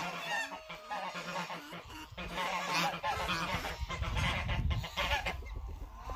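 Goose honks mix with clucking chickens in a busy farmyard, calls overlapping at moderate distance with rustling and low rumbling underneath.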